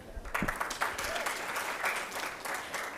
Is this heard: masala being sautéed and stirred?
no